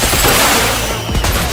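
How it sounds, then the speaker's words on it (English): Fireworks burst in the video game Far Cry 6, giving a loud, continuous crackling barrage of rapid pops and blasts that stays dense and close for its whole length, with no voices. "That explosion looked terrible."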